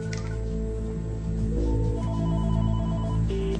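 A telephone rings with an incoming call, a steady electronic ringtone playing continuously and moderately loud over a low background hum, with no talking.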